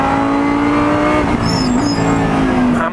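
Lamborghini Huracán GT3 race car on the Valencia racetrack, its engine roaring loud and close with a steady high-pitched howl that shifts pitch briefly, no talking over it.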